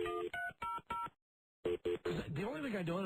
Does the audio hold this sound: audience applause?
no